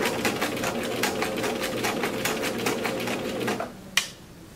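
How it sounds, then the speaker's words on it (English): A sewing machine stitching right at the fabric edge while backstitching for a fly front zipper, a rapid even mechanical clatter that runs steadily, then stops with a single sharp click. "I'm going to start by backstitching, and backstitch, and we're sewing right at the edge of the cloth"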